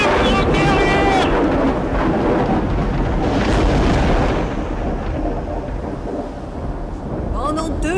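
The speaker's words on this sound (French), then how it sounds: "Pendant 2 jours et 2 nuits, la tempête fit rage." A storm rages at sea with rolling thunder, a dense roar of rain and wind, and churning water. The noise is loud and sustained, easing slightly toward the end, with a voice speaking over it.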